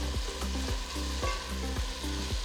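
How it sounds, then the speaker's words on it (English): Onions and cut potato sauté in a pan for Andhra-style veg pulao, a continuous close sizzle broken by regular scraping stirs about every half second. "Saute until the onions are slightly golden in color"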